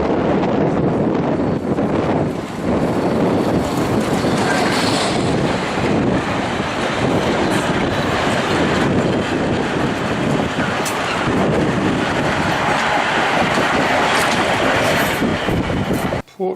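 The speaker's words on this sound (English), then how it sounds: "Trains coming through." A train rumbles steadily past on the rails, a loud continuous roar with heavy wind buffeting the microphone throughout.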